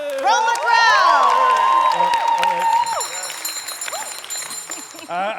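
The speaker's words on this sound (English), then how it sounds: "elected moderator by overwhelming cheers and raucous applause from the crowd" A crowd at a town meeting in the stage play An Enemy of the People erupts in loud cheering and raucous applause, a dense roar of clapping and shouts at close range that gradually eases.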